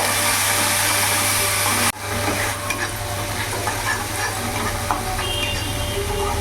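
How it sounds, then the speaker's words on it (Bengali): Spices fried in a pan for a fish-roe and potato-pointed-gourd curry give a strong continuous sizzle, cut briefly before resuming with scraping stirs; no talking. "মশলাটা একটু ভাজা ভাজা হয়ে গেছে"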